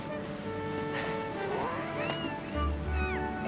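A cat meowing in the game Skyward Sword: a few short, rising and falling mews, clear and close, over a steady background hum.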